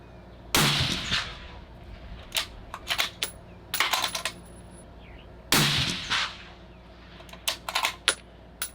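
A Sig Cross rifle fires Hornady V-Match ammunition, with two sharp, loud close shots several seconds apart, each followed by metallic clicks and clatter from working the bolt.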